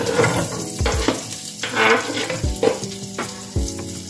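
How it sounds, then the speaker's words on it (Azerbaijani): Onions frying in melted butter in a pot give a steady close sizzle, with a few bursts of stirring scrapes and louder crackles. "Yağda yaxşı qovurana kimi yağda qovururam"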